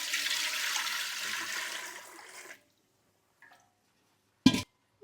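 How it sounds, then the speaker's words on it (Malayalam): Water gushes steadily into a large pot for three kilos of Leghorn chicken biryani for about two and a half seconds, then stops. A short clunk follows after a pause, with no talking. "വെള്ളം ഒഴിക്കാം"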